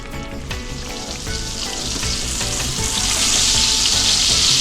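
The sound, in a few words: jerk grouper fillet frying in butter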